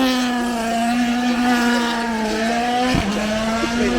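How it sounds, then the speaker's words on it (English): A rally car passing at the Goodwood Festival of Speed, its engine a loud sustained drone with a steady pitch that briefly drops as it goes by, close and alone. "Just more rally cars."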